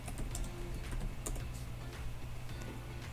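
Soft, quick clicks of typing on a computer keyboard, close by and quiet over a low steady hum, in uneven bursts with no talking.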